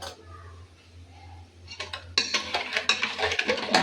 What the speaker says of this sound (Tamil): அது தகுந்தா போல் சர்க்கரையை நம்ம மிக்ஸ் பண்ணிக்கிறோம்ப்பா.